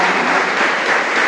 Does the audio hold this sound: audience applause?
yes